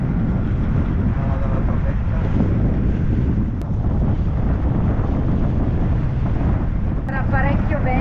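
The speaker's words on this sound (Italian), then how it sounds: "Parecchio vento da Grecale che continua a soffiare" Strong northeast Grecale wind buffets the microphone on a sailboat in a constant loud roar, with water splashing and faint voices underneath, at the Fornelli passage in Sardinia.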